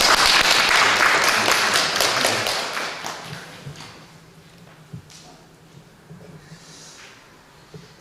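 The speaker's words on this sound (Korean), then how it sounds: "환영의 박수 한번 할까요?" Welcoming applause from a church congregation, loud, dense clapping that gradually fades over several seconds into scattered claps and a few thumps.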